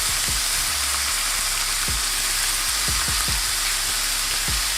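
Marinated Middle Eastern grilled chicken sizzling loudly and steadily in a hot pan, with several soft thuds and scrapes as pieces are turned, no voices.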